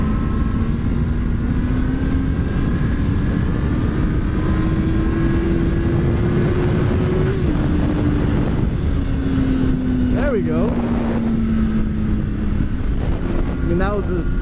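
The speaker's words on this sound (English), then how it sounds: "Hands are right, and the clutch up and lay into the throttle." A motorcycle engine revs hard under the throttle while the bike lifts into a wheelie, its steady drone climbing and then easing over constant wind buffeting the microphone, with a few brief higher whines near the end.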